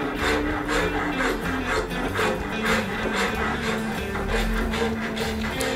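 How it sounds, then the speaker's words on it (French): A half-round rasp works the curved wooden heel of a baritone guitar neck, giving a dense, continuous rhythmic scraping of repeated strokes close to the ear. "Selon les courbes, je me sers de différentes râpes, notamment une râpe mi-ronde pour aller dans les parties incurvées."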